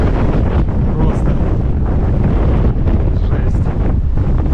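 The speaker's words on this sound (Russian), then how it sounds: "Реально аж сносит ветер." Strong wind buffets the microphone along a seaside promenade above the sea in Simeiz, Crimea, a loud continuous roar with steady low rumble throughout.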